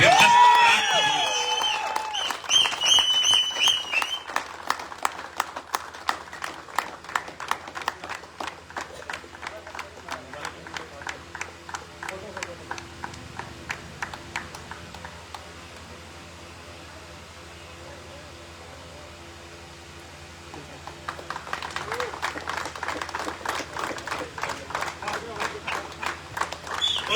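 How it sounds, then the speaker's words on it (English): An audience at a corporate rewards and recognition event claps steadily and rhythmically for nearly half a minute, louder at the start and end and softer in the middle, with a voice speaking over it. "Please make a big round of applause for that because we have just cracked the news."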